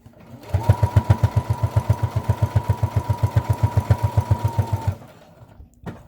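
A sewing machine stitches fabric near the edge while making a scrap-fabric coin holder. It runs in a fast, even burst of needle strokes for about four seconds, then stops, close and loud.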